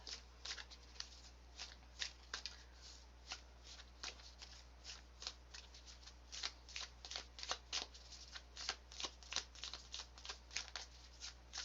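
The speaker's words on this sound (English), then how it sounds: "It's also nice to just kind of watch the colors as you shuffle." Cards are shuffled again and again in quick riffling bursts, close and crisp, with short pauses between each shuffle against a quiet low hum.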